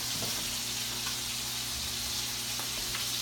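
Precooked potato pancakes fry in a hot pan to crisp the outside, giving a constant dense sizzle that fills the whole stretch without any speech.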